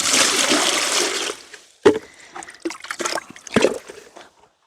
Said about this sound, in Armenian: Տանեմ մի քիչ էլ ջրեմ,